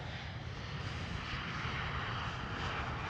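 A Turkish Airlines jet in holiday livery lands on runway 18 Center at Amsterdam Schiphol, its engines giving a faint, steady distant roar throughout.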